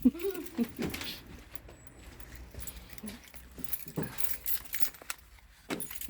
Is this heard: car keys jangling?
yes